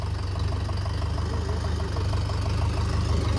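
A tractor engine idling after servicing, a steady low diesel chug with a faint knocking rhythm, running close and unbroken.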